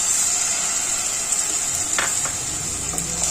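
Strained tamarind water hisses and sizzles in a hot pan over a simmering flame, a steady close frying hiss with a few sharp spits and light stirring, no talk.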